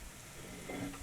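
Food caramelizing on a BBQ sizzles and crackles faintly, a soft continuous fry with a brief stirring scrape.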